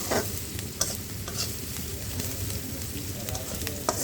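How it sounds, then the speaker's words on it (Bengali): Onion frying in a pan for a fish curry, a dense continuous sizzle with occasional stirring scrapes and clicks, close and fairly loud, with no talking. "এখন আমি পেঁয়াজটা সুন্দর করে ভেজে নেব"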